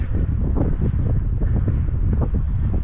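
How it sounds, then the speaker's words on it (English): Breezy wind on Diablo Lake during a kayaking trip, a loud, constant rumble of wind buffeting the microphone that fills the whole moment, with no talking. "It's a bit of a breezy day."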